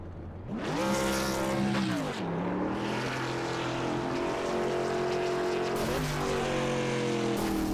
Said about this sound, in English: We'll get to see some burnouts from Shane Tierney.